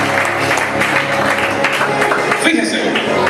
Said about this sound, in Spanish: Denle un aplauso a la mujer del Señor.